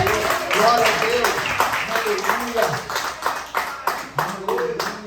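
Church congregation clapping together at an evening service, the dense claps rising and falling in rhythmic waves while voices call out over them.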